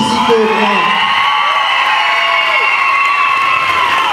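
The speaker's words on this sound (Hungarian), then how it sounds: "És még egy hatalmas tapsot kérnék a tánctanároknak, felkészítőknek." Audience at a dance competition award ceremony clapping and cheering, a loud, steady wash of applause with whoops and shouts carrying on without a break for several seconds.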